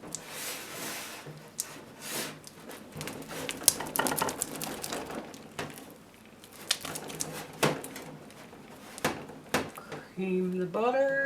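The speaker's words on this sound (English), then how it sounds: "it calls for mixing by hand, we will mix by hand." Cookie dough being mixed by hand in a bowl, creaming butter for a 1951 cookbook recipe, giving soft repeated scraping and rubbing strokes in an irregular rhythm, with a voice talking over it toward the end.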